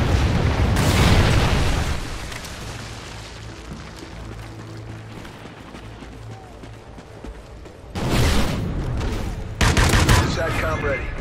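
Trinity rocket strike in Call of Duty Ghosts, a heavy burst of loud explosions and gunfire at the start, a rumbling lull with distant shots, then more booming blasts near the end.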